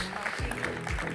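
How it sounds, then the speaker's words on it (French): A studio audience at a televised architecture and building-industry event claps in a soft, dense patter that stays fairly faint and even throughout, with a low hum underneath. "On peut les applaudir."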